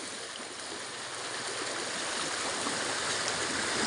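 Steady broadband rush of flowing river water, continuous and fairly close, with no voices.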